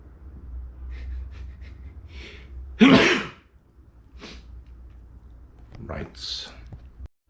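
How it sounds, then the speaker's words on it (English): A single sharp sneeze bursts out, close and loud, with quiet breathy sounds and soft vocal noises before and after. "I'm gonna sneeze."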